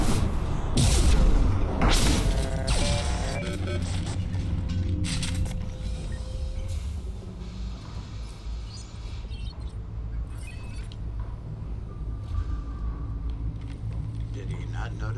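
A few heavy, close explosions go off in quick succession during a sci-fi shooter firefight in Mass Effect, followed by a steady mechanical hum and scattered debris clatter while a voice talks over the top.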